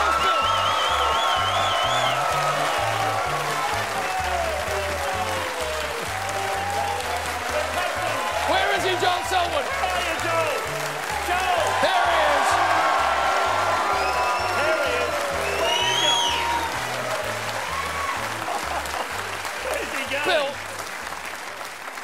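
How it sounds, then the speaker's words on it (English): A television footy-show studio audience cheers and applauds steadily and loudly throughout, with whoops rising above the clapping, over a pulsing music bed and a presenter's voice. "Well, the crowd were bloody too loud."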